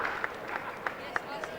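Crowd applause ripples around Adelaide Oval at a Test cricket match against England as the local captain reaches his fifty. The steady broadband clapping carries a few sharper bursts and sits at a moderate distance.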